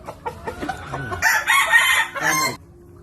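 A gamecock rooster, a Golden Broodstag, crows loudly and close by, with clucking before and around it, then the sound drops away.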